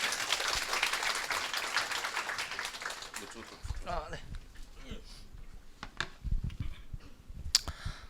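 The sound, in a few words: applause welcoming a lecturer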